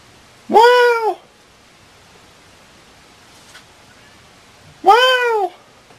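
Two clear, close meows from a house cat, spaced about four seconds apart, each lasting around half a second against a quiet background.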